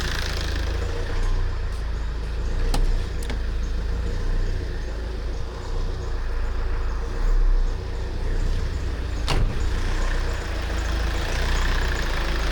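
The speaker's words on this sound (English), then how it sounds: "Yep, the condenser fan did come on." A Tata Safari Dicor 2.2 engine idles steadily with a low, continuous rumble, while the AC condenser fan switches on and adds a broad whirring layer, with a couple of sharp clicks along the way.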